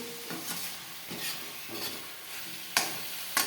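Banana flower poriyal fries in a pan while being stirred, giving a steady close sizzle with soft scraping strokes and two sharper clinks near the end; no one speaks.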